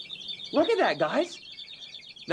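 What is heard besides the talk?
rossignol pipe organ bird-call effect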